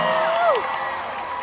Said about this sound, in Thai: พวกเราครับปรบมือให้พี่ปกเลยครับ